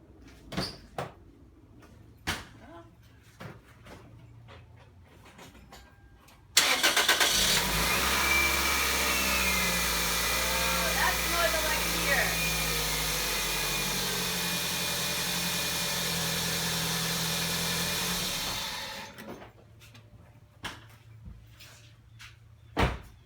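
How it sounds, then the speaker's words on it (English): A few faint clicks, then a 2005 Toyota Celica engine cranks and catches after an alternator replacement, idling steadily for about twelve seconds before shutting off, followed by more light clicks. "So you guys are gonna see if I blow up my car."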